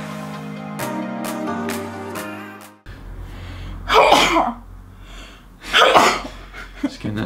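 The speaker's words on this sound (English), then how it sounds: "Just getting that sneeze out." Two loud, close human sneezes burst out about two seconds apart after a short musical outro fades, each a sharp explosive blast with breathy inhales between.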